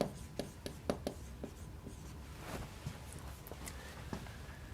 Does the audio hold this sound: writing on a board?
yes